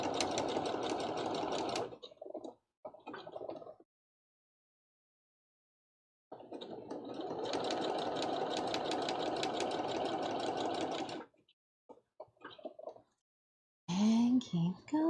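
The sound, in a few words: sewing machine stitching appliques onto a cosplay flag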